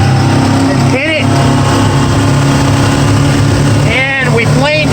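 A 1999 Boston Whaler 23 Conquest's outboard engine pulls hard out of the hole, a loud sustained drone with rising pitch, while someone talks over it and wind buffets the boat.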